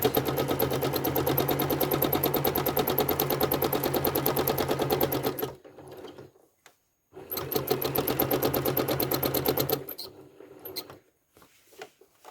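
A sewing machine stitches serpentine quilting lines across a quilt's sashing, running in two long steady rapid bursts of needle chatter separated by short pauses with faint handling noise.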